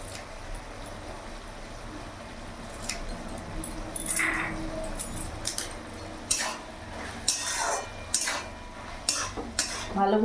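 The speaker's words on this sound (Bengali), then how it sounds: "ভালো করে নাড়াচাড়া করে নিলাম।" Spinach curry with slit green chillies is stirred in a pan: a spoon scrapes and clinks against the metal in irregular bursts, growing busier toward the end, over a low background hum.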